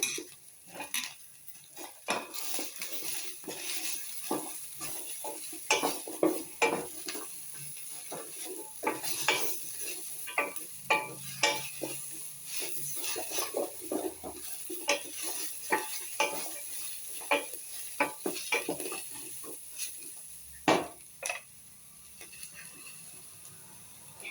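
Carrot and capsicum sizzling in a pan for basmati pulao, with a spoon repeatedly scraping and clattering against the metal in an irregular rhythm over a steady low fry, close and without talk.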